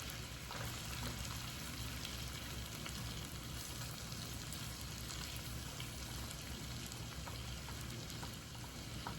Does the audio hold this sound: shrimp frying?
yes